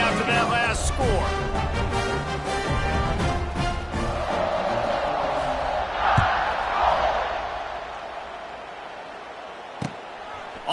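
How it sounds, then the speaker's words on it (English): Stadium crowd at a college football game buzzes after a score, a broad steady roar that eases off toward the end, with a commentator talking over it and a couple of sharp thuds. "this crowd is buzzing after that last score"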